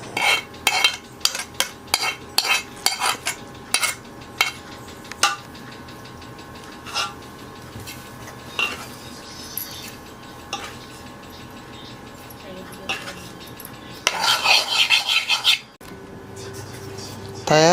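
Cashew nuts being stirred into a prepared sweet powder filling for kajjikayalu give light clinking and scraping of a spoon against a metal bowl in short bursts, with someone talking over much of it.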